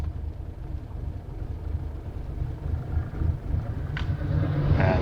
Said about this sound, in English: And there's a lorry on the road,